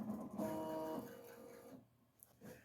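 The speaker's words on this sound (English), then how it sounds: "So we're gonna start the embroidery" An embroidery machine starts stitching a design, giving a faint mechanical whir with a brief steady tone near the start, then quieter clicking and motor hum after it.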